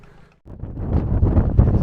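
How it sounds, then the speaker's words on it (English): Strong coastal wind near a lighthouse in Anglesey, North Wales, buffets the microphone in heavy, roaring gusts after a brief lull, loud and close with no voices. "Incredibly windy"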